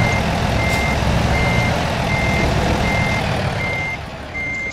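A truck reverses in American Truck Simulator, its backup alarm beeping evenly about six times over a loud, continuous diesel engine rumble close by.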